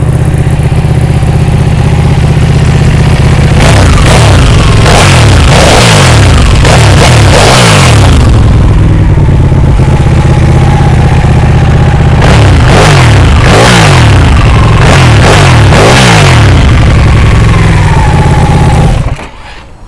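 A 2012 Ducati Panigale 1199 motorcycle with a Termignoni exhaust idles loud and close, then gets blipped in two clusters of sharp revs that rise and fall back to idle before the engine cuts off at the end.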